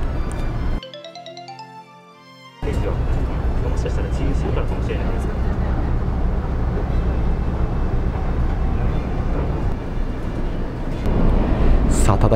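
Inside a Kintetsu Aoniyoshi limited express train, a short chime plays before a loud, steady rumbling roar swells as the train runs into a tunnel, with someone talking over the noise throughout.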